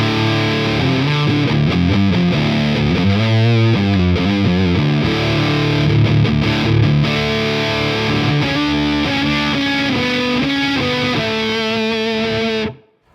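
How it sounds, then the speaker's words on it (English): Electric guitar through a Crazy Tube Circuits Motherload fuzz pedal into a Fender amp, thick, throaty, distorted riffs and sustained chords played loud and alone, cutting off abruptly at the end. "So here is the Motherload on those same settings, that big throaty growl, through the Fender."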